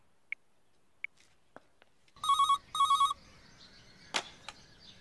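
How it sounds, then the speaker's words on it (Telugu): A landline telephone rings in two short, loud electronic bursts, with faint clicks and small knocks before it and a sharp noise just after. "ల్యాండ్లైన్కి ఫోన్ చేసి నేనే కనెక్ట్ చేస్తాను."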